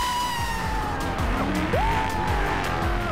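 Tires squeal in a burnout as a loud engine roars and revs, with a high screech sweeping up and down over a constant throaty rumble, from a car race pitting a Mustang Bullitt against a Dodge Charger.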